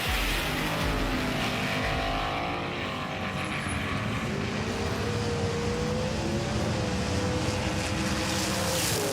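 Mitsubishi Evo race cars at the start gate roar steadily at close range, with loud, constant engine noise, shifting engine pitch and no pauses.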